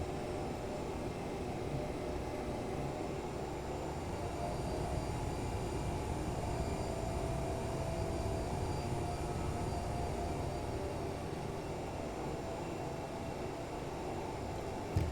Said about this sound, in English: it will pretty much taxi at idle once you get the ball rolling